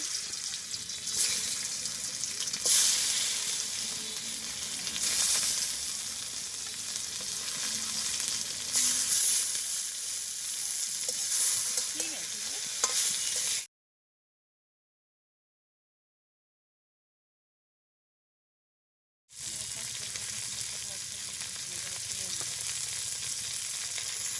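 Fish sizzling hard as it fries in a pan in a village kitchen, a loud, dense, crackling hiss heard close up, dropping to total silence for several seconds before the frying resumes.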